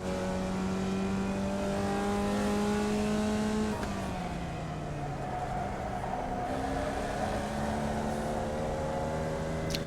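A race car engine in the iRacing sim holds a steady loud drone that rises in pitch, drops sharply around a gear change or lift, then climbs again, continuous and close with no talk.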